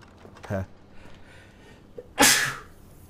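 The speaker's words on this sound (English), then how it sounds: "Every time, every time I start recording, I suddenly start sneezing." A single sharp, loud sneeze bursts out near the end, after a brief earlier vocal sound, over faint background from a Wolfenstein: The New Order playthrough.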